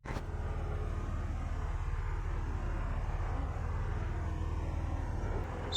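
A Massey Ferguson 235 tractor drives toward a tree while stump pulling, its steady low engine rumble holding close and loud throughout with no break.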